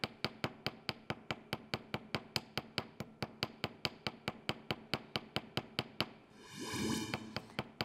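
Small hammer strikes shape a silver ring, a steady run of about thirty crisp, evenly spaced taps, close and fairly quiet, ending with a brief rustle.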